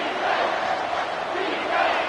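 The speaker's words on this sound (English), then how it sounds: "The crowd getting behind this defense as they try to get a stop in the red zone." A football stadium crowd roars and cheers behind the home defense during a red-zone stand, a sustained dense wall of voices with slight swells.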